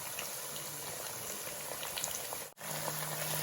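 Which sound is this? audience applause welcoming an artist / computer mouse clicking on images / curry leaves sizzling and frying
curry leaves sizzling and frying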